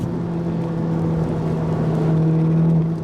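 Steady, loud engine drone from a Volkswagen T-Roc R with its 2.0-litre turbocharged TSI engine held high in the revs, a sustained even hum heard from inside the car with no talking.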